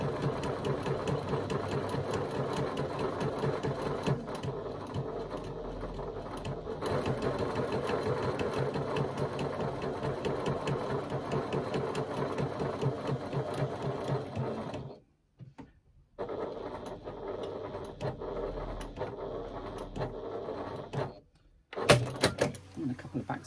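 A sewing machine runs back stitches to lock a seam, with close, rapid, steady stitching that stops briefly and then resumes in short bursts.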